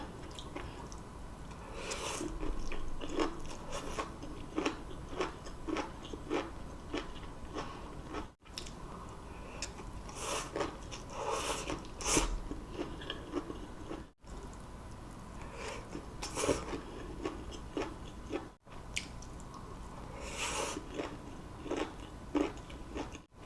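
Close, quiet chewing of homemade aglio olio pasta, soft wet bites and squishy mouth sounds repeating steadily with brief gaps.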